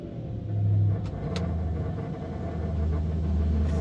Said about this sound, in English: Let's turn it over, fire it up and see what it's like